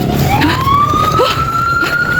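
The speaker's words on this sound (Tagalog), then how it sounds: "Uy, may ambulansya na." An ambulance siren wails loud and close, its rising tone sweeping upward over traffic rumble.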